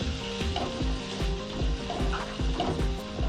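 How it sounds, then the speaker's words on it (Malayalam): Green chilies and tomatoes sautéing in a pan for a thick chickpea masala gravy, with loud sizzling and rhythmic scraping stirs from a spatula repeating about every half second, close up and without voices. "അതോടൊപ്പം തന്നെ പച്ചമുളക് ഇതൊന്ന് വഴറ്റാം."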